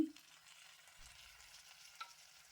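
Chopped tomatoes tipped into a pan of fried onions, a faint soft sizzle with a light thump at the start and quiet stirring scrapes, no talking.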